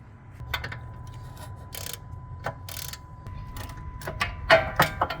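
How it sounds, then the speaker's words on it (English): Ratcheting clicks and metallic knocks come as a 16 mm wrench breaks loose the inner bolts on a Tesla Model S rear camber arm, with scattered bursts of tool noise and a faint steady hum beneath. "Now we are going to break the inner bolts loose with the 16 millimeter."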